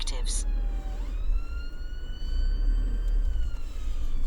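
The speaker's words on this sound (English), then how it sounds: "Sorry, ambulance is just trying to get past" An ambulance siren wails and slowly shifts in pitch as it passes nearby, its tone rising and falling over low road rumble.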